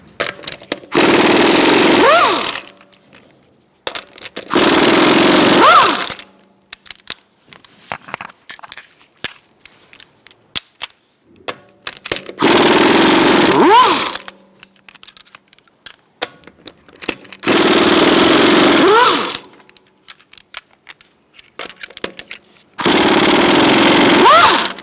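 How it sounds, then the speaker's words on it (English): An impact wrench with a 19mm socket buzzes off the front wheel lug nuts of a 2012-2018 Ford Focus in five loud bursts of about two seconds each, with clanks and handling noises between them. "Using a 19mm socket, we're going to remove our wheel."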